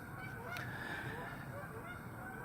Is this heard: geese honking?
yes